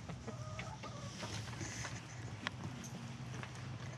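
Chickens cluck and scratch around in freshly turned material, their short calls quiet and scattered over a soft outdoor background.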